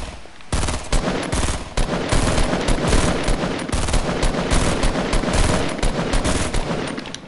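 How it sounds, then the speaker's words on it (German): Video game gunfire shooting down a tree, rapid sustained automatic bursts close and loud, cracking almost continuously for several seconds with only tiny gaps between volleys. "Lass mal den Baum kaputt schießen."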